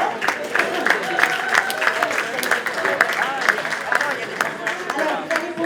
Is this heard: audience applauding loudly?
yes